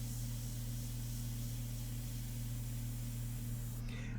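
An airbrush sprays India ink in a steady, soft hiss with a low hum beneath it, constant and fairly faint, cutting off abruptly near the end.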